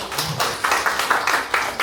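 A seminar audience at a Bucheon Cultural Center intangible heritage event applauds an introduced research fellow, a steady patter of many hands clapping at moderate distance with a few louder accents, no one speaking over it.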